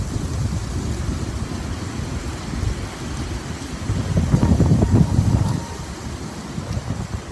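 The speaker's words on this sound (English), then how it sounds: "The wind is really annoying me." Wind buffeting a microphone outdoors, with a steady low rumble that swells louder around the middle and continues throughout, no talking.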